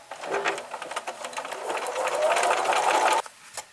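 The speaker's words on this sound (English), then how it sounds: "I'm just going to sew along this line" A sewing machine stitches a mitered seam joining quilt strips for a Hunter's Star quilt, running in a steady rapid whir for about three seconds before stopping abruptly, close and moderately loud.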